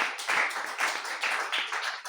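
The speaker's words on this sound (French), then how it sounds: "Applaudissons pour le Seigneur." A church congregation at a revival service clapping in a quick, even rhythm, a dense group applause heard fairly close for a couple of seconds with no talk over it.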